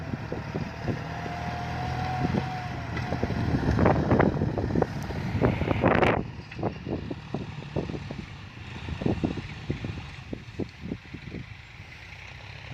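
A John Deere tractor, either a 5055E or a 5045D, works a field in Thailand. Its engine drones steadily, with wind buffeting the microphone and scattered clattering knocks, and no one speaks.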